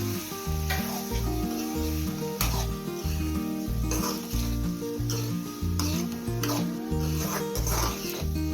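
Chopped boiled egg is stirred through a mixture in a hot frying pan, with a steady sizzle and scraping spatula strokes heard under louder, rhythmic background music.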